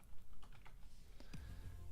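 Computer keyboard typing nearby, a quick run of light clicking keystrokes followed by a few sharper taps, heard quietly with no talking over it.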